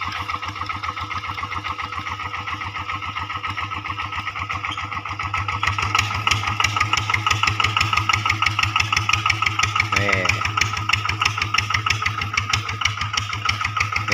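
A diesel tractor engine chugs steadily at close range while ploughing up cassava, its rhythmic low throb growing slightly louder partway through, with no voices.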